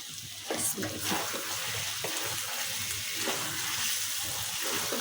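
Chicken frying in a pot as ground almond and coconut paste goes in for a spiced roast-style curry, giving a continuous wet sizzle and bubbling with some water-like hiss throughout, close and fairly loud.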